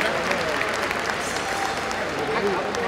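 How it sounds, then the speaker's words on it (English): An audience at an awards banquet gives a big round of applause, a thick, even wash of many hands clapping that holds steady throughout at close range. "So give yourselves a big round of applause."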